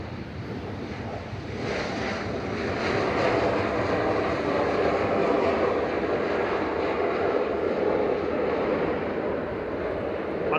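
A KLM Embraer E190 jet, operated by Eastern Airways, takes off at Manchester Airport as a steady, broad roar builds and holds, with heavy wind buffeting the microphone throughout.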